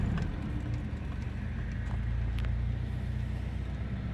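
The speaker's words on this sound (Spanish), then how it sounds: "Y vemos aquí el coche en marcha" A 1980 Opel Manta B with a carburetted 1.3-litre 75-horsepower engine idles steadily, a low, even rumble with a faint rhythmic pulse that runs close and unchanging for the whole stretch.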